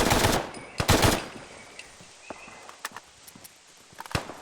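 Gunfire in Fallout 4 while fighting spiders: two loud close bursts of rapid shots, then scattered single cracks and clicks over a quiet background, with a final sharp shot near the end.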